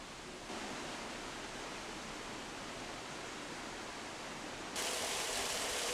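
Water from a small waterfall in a valley stream rushes as a steady broadband hiss, growing louder near the end, with no voices.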